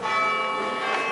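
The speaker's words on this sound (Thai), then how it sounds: "นั่นเสียงระฆัง" A church bell in Zermatt, Switzerland, rings with a sustained, shimmering metallic tone and a fresh strike near the end, moderately loud with no voices.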